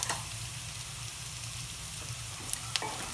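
Boiled potatoes dropped into a pan of sautéed onions for chicken mappas, a steady close sizzle with a few sharp clicks of a utensil near the end, no talking.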